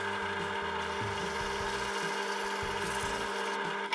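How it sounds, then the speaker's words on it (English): Rough, coarse sandpaper rubbing against a broken plastic router handle during repair, a close, continuous scratchy rasping with uneven back-and-forth strokes over a steady background hum. "We swap to rough sandpaper."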